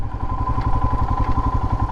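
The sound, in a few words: motorcycle engine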